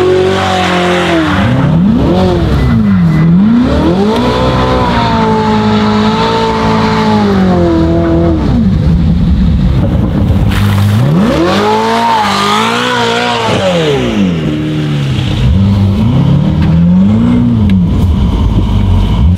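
A Ferrari fitted with a new exhaust drives through snow, its engine loudly revving up and down in repeated surges, with rising and falling pitch and occasional tire noise.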